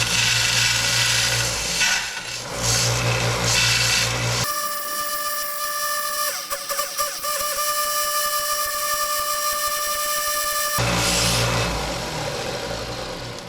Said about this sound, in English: we're over here at the belt grinder, and we're just gonna round these edges off a little bit and make it nice and smooth.